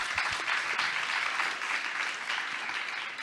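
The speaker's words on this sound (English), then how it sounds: "Let's give her a round of applause." Audience at a science communication panel applauding a speaker, a dense, steady wash of clapping throughout, moderately loud and without talk.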